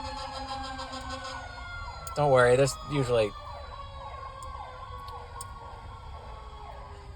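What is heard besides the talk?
emergency vehicle siren passing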